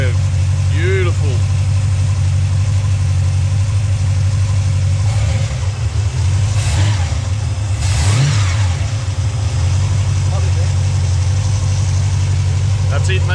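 A new 351 Cleveland V8 runs at a steady, loud idle during camshaft break-in, with a couple of brief revs rising above the rumble as people talk nearby.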